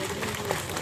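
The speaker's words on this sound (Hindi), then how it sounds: "एक बार आप सब अपने सम्मान में तालियां बजा दीजिए।" Audience applause at a Women's Day event in an office hall in Hazratganj, Lucknow: a brief burst of steady crowd clapping, fairly loud and close.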